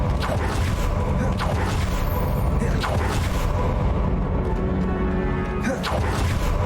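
The Confringo blast spell in Hogwarts Legacy sets off a loud, dense rumble of crashing and creaking debris that fills the whole stretch without a break.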